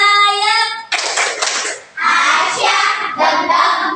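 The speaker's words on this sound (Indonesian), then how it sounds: "Tepuk dayak." Tepuk Dayak, a rhythmic hand-clapping chant done by a class of children with their teacher, heard as close, loud bursts of patterned claps in separate phrases with short gaps between them and voices mixed in.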